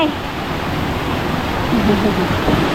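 A waterfall roars steadily beside a forest trail between the tiers of Krok E Dok falls, a dense broadband rush that fills the scene, with faint voices of hikers under it.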